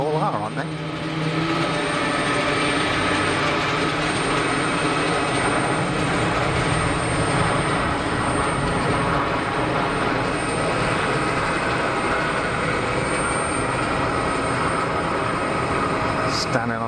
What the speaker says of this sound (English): Standing on the brakes and plenty of reverser.